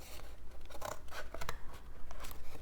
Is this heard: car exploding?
no